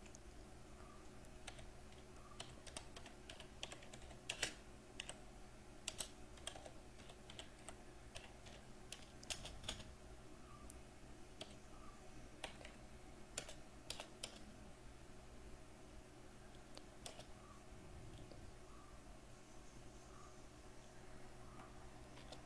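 Computer keyboard keys being typed while entries are made in Tally accounting software, irregular crisp clicks and short bursts of keystrokes close up over a quiet room hum, with no talking.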